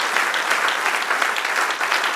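A church congregation gives a round of applause to the Lord during a sermon, a thick, even wash of many hands clapping at once, loud and sustained, with no one speaking over it.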